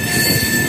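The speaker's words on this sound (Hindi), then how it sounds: "ट्रेन" A Dayodaya Express train on the Kota–Jaipur route runs on its rails with a loud, steady rumble and a continuous high wheel squeal, close and filling the whole moment.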